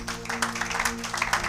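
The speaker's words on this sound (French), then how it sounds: "Acclamons pour la gloire de notre Dieu" A church congregation breaks into applause, a dense patter of clapping over steady sustained keyboard tones, moderately loud and continuous.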